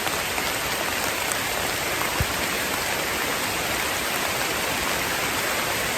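Steady, heavy rain falling continuously in a forest, a dense hiss of drops with no voices.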